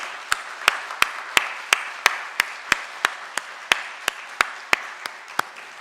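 A church congregation clapping for the choir at a New Year's Eve worship service, a small group's even rhythmic claps in unison, about three per second, moderately close with no talk.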